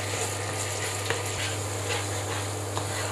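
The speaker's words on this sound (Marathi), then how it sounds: "ही आलं लसूण पेस्ट आपल्याला थोडीशी परतून घ्यायची आहे तेलामध्ये" Ginger garlic paste sautéing in hot oil in a pan: a steady close sizzle and crackle with occasional soft scraping taps of a stirring spoon, over a low constant hum.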